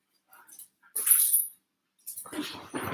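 A dog whimpers in short, high breathy whines with pauses between, close and fairly loud in a quiet room during a yoga session.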